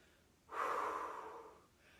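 One long, heavy breath is exhaled during a cool-down stretch after a strength circuit workout, a soft, close, breathy whoosh lasting about a second.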